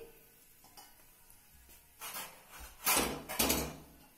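Cumin seeds dropped into hot oil for tempering, a quiet start of faint kitchen clatter, then several short bursts of loud crackling sizzle in the last two seconds.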